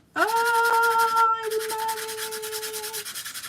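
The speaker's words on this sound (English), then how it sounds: "What happened to our sander?" A small electric sander works on cardstock, its motor whining on loudly and close with a buzzing hum, briefly dipping mid-way before running on and fading slightly.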